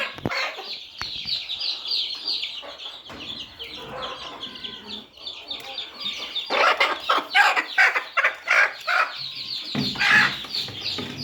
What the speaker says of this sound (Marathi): कोंबडी कोंबडी आलेली शेवटी